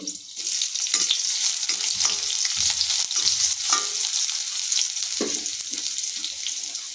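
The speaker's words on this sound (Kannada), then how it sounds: "ಈಗ ಈರುಳ್ಳಿ ಹಾಕೊಳ್ಳೋಣ್ರಿ" Onions added to oil with garlic and ginger, frying and stirred in a pan for a gram-flour sambar: a loud, steady hiss of frying with intermittent scraping strokes from the stirring, close up and without talk.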